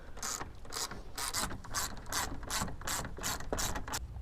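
Ratchet clicking steadily as a wrench backs out two 10mm bolts on a Nissan 350Z, the pawl ticking in quick repeated bursts with brief pauses between strokes, close and clear with no talking.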